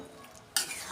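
Jackfruit and shrimp curry finished with ghee in a pan, with a quiet murmur giving way to a sudden close burst of sizzling and stirring.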